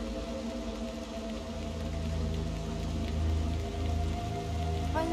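Steady rain falling in the video game Little Nightmares 2, a continuous hiss of drops spattering on surfaces alongside a low droning game ambience, with no talking.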